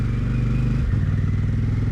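A Kawasaki Vulcan 900 Classic Limited motorcycle engine drones steadily at close range, its pitch dipping and rising as the rider shifts, with traffic rumble around it.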